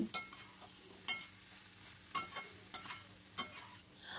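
Jackfruit seeds and potatoes stir-fried in a pan, a faint low sizzle punctuated by about five sharp, evenly spaced spatula scrapes and taps.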